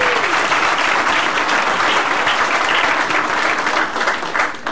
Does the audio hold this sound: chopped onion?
no